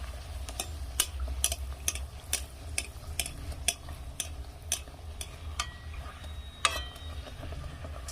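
Luchi puffing in hot oil while oil is splashed over them from above, a quiet sizzle broken by a steady run of sharp ticks and spatters, close and fairly soft.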